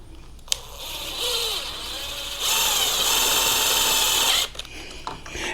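A power drill drives self-guarding screws into a homemade flag pole: bursts of loud, steady whirring from one to four and a half seconds, the pitch rising and growing louder midway, then stopping abruptly.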